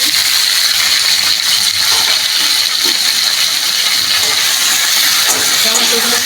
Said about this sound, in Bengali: আমি এখন টমেটোগুলো ছেড়ে দিচ্ছি